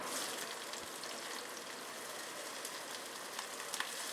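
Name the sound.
onions sautéing in a pan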